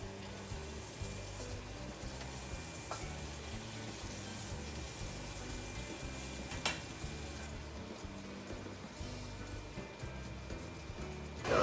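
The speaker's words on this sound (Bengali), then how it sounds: "তো এবারে বাঁধাকপি চলে গেল কড়াইতে।" Cabbage stir-frying in a kadai gives a steady, moderate sizzle with soft scraping and stirring, continuous and close, no talk over it.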